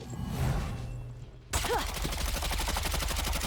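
Rapid gunfire from the video game Paladins bursts in suddenly and continues as a loud, dense stream of shots.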